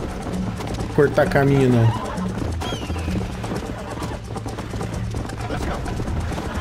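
A horse gallops in the video game Red Dead Redemption, its hoofbeats running steadily beneath someone speaking Portuguese almost throughout, with a brief louder burst near the start.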